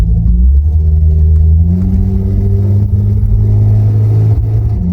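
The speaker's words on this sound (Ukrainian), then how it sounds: "Глушник хоч і прогорівший, але звук дуже приємний, нічого не можу сказати." An Opel Monza 3.0 inline-six engine with a burnt-out muffler rumbles at a steady idle with a raspy, blown-out exhaust note, then revs up slightly, loud and close.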